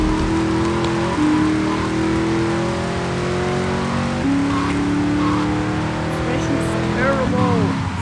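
A car races through a checkpoint race mission in GTA III, its engine a continuous droning rev whose pitch climbs and dips as it accelerates and shifts, loud and steady across the whole stretch.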